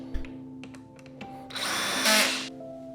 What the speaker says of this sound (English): just hand tightening before I go through and drill them in tighter